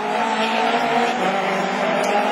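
Rallycross race cars, one of them a Honda, contending for the lead in a Division 4 event, their engines roaring loudly and continuously at close range with a dense, steady note and no talk.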